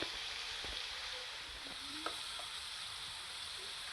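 Baby pomfret fish laid into a hot pan over medium heat, a steady quiet sizzle with a few faint clinks and placing sounds as the fish go in.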